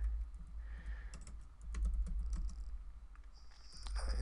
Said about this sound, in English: if you want a keyword, you would just type in keyword